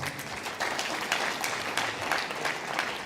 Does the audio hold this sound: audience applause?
yes